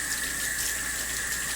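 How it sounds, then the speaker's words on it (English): Steady tap water runs from a kitchen faucet into a sink as hands are washed while cooking, a continuous close hiss with no talking. "I'm gonna wash my hand for this cut."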